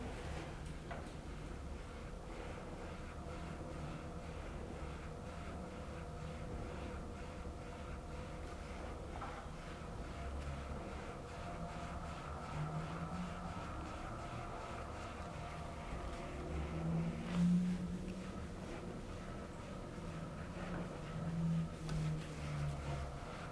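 A Freebeat Boom Bike exercise bike pedaled steadily, making a quiet, continuous rhythmic ticking and soft whirring with faint rustling of clothing, low and even throughout, with no talking.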